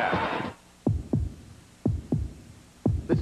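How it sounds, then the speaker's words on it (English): Heartbeats from a Chevrolet Corvette television commercial, paired deep thumps repeating about every second, loud and isolated after a brief burst of sound at the start. "Listen to the heartbeat."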